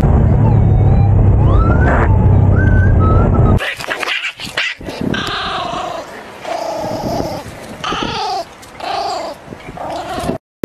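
A Shiba Inu dog barks and growls in a series of loud, close, strained bursts after a noisy stretch, with some speech around it.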